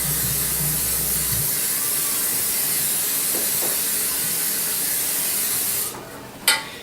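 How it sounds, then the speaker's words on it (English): Cooking spray hisses steadily into a 9x13-inch baking pan for about six seconds, close and continuous, then stops, followed by a brief quiet clink. "we're going to take the cooking spray and spray a 9-inch by 13-inch pan."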